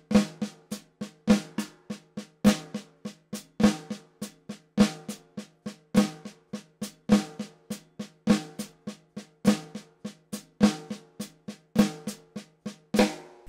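Drums on a bebop kit play flam paradiddle sticking in triplets: crisp, evenly spaced snare and tom strokes with accented flams repeating in a steady pulse. Close and dry, with no talk.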